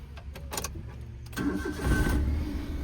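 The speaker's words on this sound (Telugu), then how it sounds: "వెహికల్లో ఎటువంటి స్టార్టింగ్ ట్రబుల్ లేదు సార్ సింగిల్ సెల్ఫ్లో స్టార్ట్ అవుతుంది" A 2012 Maruti Alto LXI petrol hatchback cranks briefly with a few starter clicks, then catches on the first try and settles into a steady, close idle.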